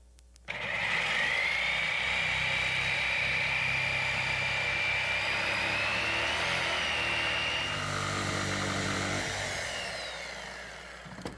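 A power saw blade cuts through a door from a pilot hole, giving a loud, steady motor whine that holds for about ten seconds, shifting pitch slightly as it bites, then winds down.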